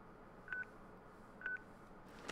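Two evenly spaced keypad beeps from a flip phone in Crisis Core: Reunion, about a second apart, short and clear over quiet game ambience.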